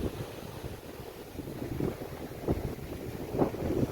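Sea roaring along the coast at Kendrapara, a faint steady wash of surf and wind noise on the microphone with soft swells, no talk.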